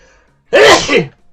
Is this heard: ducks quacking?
no